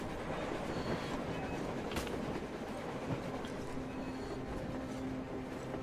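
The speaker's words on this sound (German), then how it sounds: "Ein Zug! Ein verdammter Zug an der Oberfläche!" A train passes through Moscow in the Metro Exodus video game, rolling with a rumbling, clattering drone and occasional metallic clicks, steady and moderately distant.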